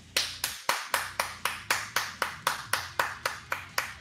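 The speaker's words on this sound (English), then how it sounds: "Prop wants to know by a round of applause" Evenly spaced claps ring out at roughly four per second, crisp and close, with no other sounds between them, during an online show about a mobile game.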